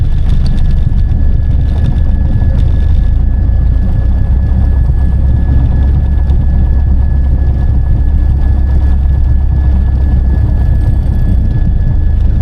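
A Piper Archer light aircraft taxiing on an airport surface in a tailwind, its piston engine giving a steady, loud, low drone with propeller rumble that holds unbroken throughout, with no talking.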